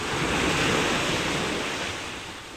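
Strong wind buffets the microphone by the sea during the habagat monsoon, a loud, continuous roar mixed with surf that peaks early and then slowly eases.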